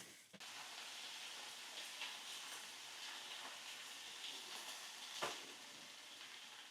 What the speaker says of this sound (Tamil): இப்போ முட்டைக்கோஸ் பரட்டிட்டு இருக்கேன்